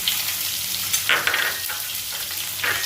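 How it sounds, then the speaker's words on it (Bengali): Chopped onion hits hot oil and fries with a loud, dense sizzle close by, with bursts of brighter spitting and stirring scrapes across a few seconds. "এই দেখো তেলটা গরম হয়ে গেছে, আমি এবার দেবো পেঁয়াজ কুচি।"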